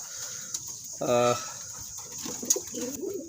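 Caged breeding pigeons, restless in the heat around a water bowl, give one short, clear coo amid quiet rustling and soft bird calls.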